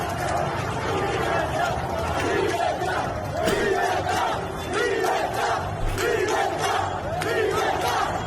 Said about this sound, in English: They're shouting for freedom.